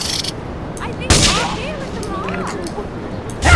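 Sniper rifle shots ring out in a Grand Theft Auto game, with one sharp loud crack followed by a game voice and another shot near the end.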